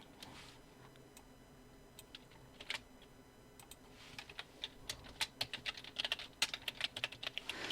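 Computer keyboard typing while entering text in Adobe Illustrator, starting with sparse, quiet clicks and building into a faster, louder run of close keystrokes with no talk.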